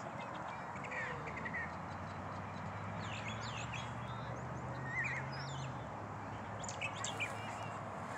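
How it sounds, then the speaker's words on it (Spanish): Scattered chirps from a small bird come and go over a steady outdoor ambience by water at sunset, with a low hum, the calls fairly faint. "Los dejo para que escuchen el sonido natural, por ahí un pajarito."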